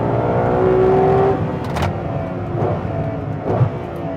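Ferrari 812 Competizione, an 819bhp V12 limited edition, driving on a race track: a sustained engine drone with a rising whine, then steadier running with brief bursts as the car brakes and turns, heard from inside.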